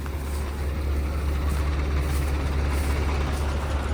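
A Sonalika tractor hauling a loaded trolley up a steep slope, its heavy diesel engine laboring in a loud, constant low rumble that continues unbroken for the whole stretch.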